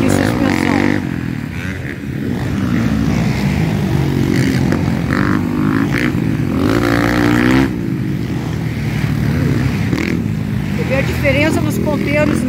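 A motocross motorcycle accelerates hard at a Brazilian Motocross Championship round at Interlagos, its engine roaring loud and steady throughout with pitch rising and falling, while a commentator talks over it.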